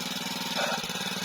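A small mini tractor engine chugs steadily while tilling shallow soil in a rural field, a continuous close mid-pitched drone with a rhythmic throb, heard alone for a brief moment.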